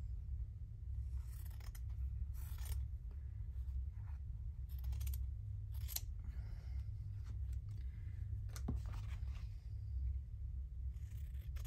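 Scissors trim cotton fabric for a large tag with a fabric pocket, giving a series of faint, close snips spaced irregularly over a low steady hum.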